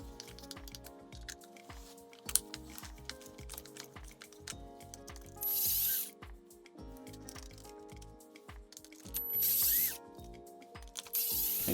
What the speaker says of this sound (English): the wrench is new and it does grip pretty well. So we'll get them broke loose with this